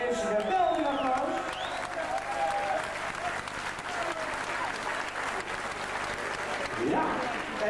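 An audience at a village quiz night in Prinsenbeek breaks into sustained, steady applause from a large crowd, with whoops and voices mixed in over the clapping throughout.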